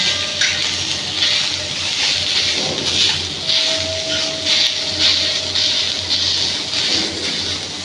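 Lengthwise-sliced onions roast in a pan for an onion and coconut masala, giving a steady, close sizzling hiss that runs unbroken for the whole stretch, with no talking.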